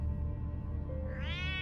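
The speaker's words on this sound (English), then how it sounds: "You can't pet the cat." A cat in the TellTale Batman video game lets out a single rising, drawn-out meow near the end, clear and close over a low steady background hum.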